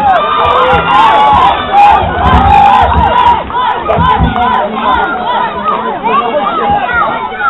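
A wrestling crowd cheers, shouts and claps loudly and continuously, with excited yells rising and falling while a commentator talks over the noise.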